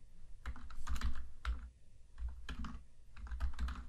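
Code being typed on a computer keyboard, close and quiet, with quick bursts of clicking keystrokes separated by short pauses.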